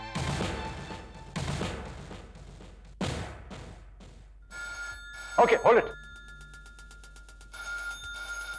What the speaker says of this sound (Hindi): कोई फोन नहीं उठाएगा, हम सब एक साथ फोन उठाएंगे